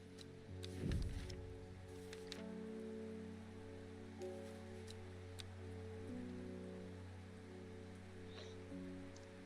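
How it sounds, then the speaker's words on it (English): Steady rain falls across the Undermere setting of a plant-gathering video game, a soft continuous hiss with a low tonal music bed underneath and a brief thump near the start; no voices. "Does it ever stop raining in Undermere?"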